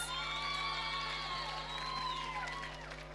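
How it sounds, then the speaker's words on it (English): Audience at a Hindu Society Diwali and New Year celebration cheering, whooping and clapping together, a loud sustained crowd roar with shouting voices that fades slightly toward the end. "Can we have one more round of applause"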